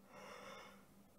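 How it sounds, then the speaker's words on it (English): A person lets out one drawn-out, breathy yawn, close and soft, lasting about a second with no words. "I need to stop yawning."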